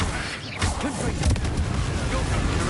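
A Confringo spell explosion in the Hogwarts Legacy video game, a loud, dense burst of booming blasts and crackling debris that fills the clip, layered with other game effects.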